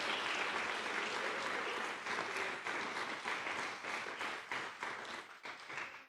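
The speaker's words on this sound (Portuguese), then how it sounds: "Dá uma salva de palmas ao Senhor." Applause fills a church service, dense and steady clapping from a congregation that holds strong for about five seconds before thinning and fading near the end.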